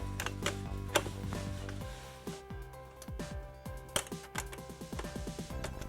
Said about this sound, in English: I'm going to use a 1/2 inch wrench, 2 1/2 inch wrenches back here to loosen these bolts